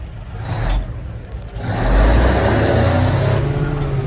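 A 1966 Kenworth Dart truck engine roars up as the throttle opens, a loud, close, low rumble that swells and holds steady after a brief dip.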